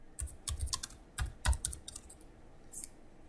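Keys on a computer keyboard clatter in quick irregular bursts while someone writes C++ code, the taps close and crisp with short pauses between flurries.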